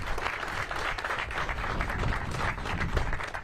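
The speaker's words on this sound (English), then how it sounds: "One more round of applause for these guys" Steady applause from an audience at the grand re-opening celebration of the River Course golf course at Virginia Tech, a dense continuous wash of many hands clapping for several seconds with no speech.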